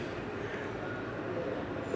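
A metro train rumbles steadily past in Bangladesh, a dense continuous roar of wheels on track with no pauses, fairly close and loud throughout.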